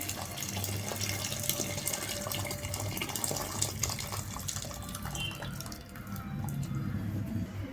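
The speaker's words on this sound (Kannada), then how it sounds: "ಸೊ ಆ ನೀರನ್ನು ಇಲ್ಲಿ ನಾನು ಹಾಕ್ತಾಯಿದ್ದೀನಿ." Hot water pours into a pot of rice for cooking, making a continuous, close splashing and gurgling stream that runs steadily throughout without pause.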